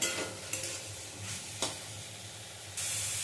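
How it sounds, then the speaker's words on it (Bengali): Potatoes and pumpkin stirred in a pan, a low steady sizzle broken by a few distinct scraping strokes, with a sudden louder hiss rising at the end. "এবারে আবার নেড়ে নেব"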